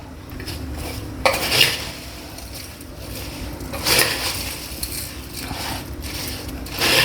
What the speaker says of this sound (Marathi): आता हे सगळं आपण पटापट मिक्स करूया.